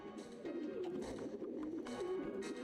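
A pigeon coos in the video game Jazzpunk, a steady warbling coo that runs close and clear through the whole stretch with no talk over it.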